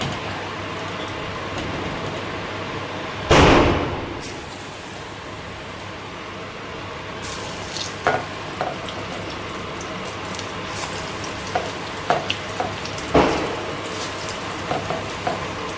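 Batata vada sizzles and fries in hot oil, a continuous hissing crackle with several sharper splashes and bursts as pieces go in or are moved.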